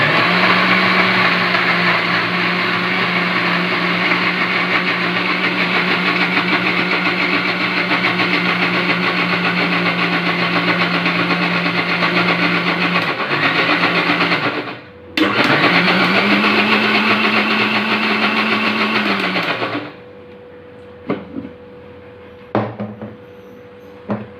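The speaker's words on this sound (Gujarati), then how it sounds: "આપણે આમાં થોડું એકાદ ગ્લાસ જેટલું દૂધ લઈ અને ફરી એને ક્રશ કરી નાખીશું" A kitchen blender crushes cake batter with added milk, a loud steady motor whir running for about fifteen seconds, a brief pause, then another burst before it stops, followed by a few light clicks and knocks.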